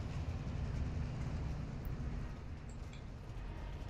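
A moving train in the Call of Duty DMZ video game makes a loud, steady low rumble with a broad roar of wheels and carriages, continuous throughout and heard close, with no speech over it.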